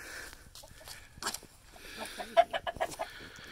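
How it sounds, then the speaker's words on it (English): Chickens cluck in short, scattered bursts, fairly soft and close by, with a few louder clucks near the end. "They're chickens."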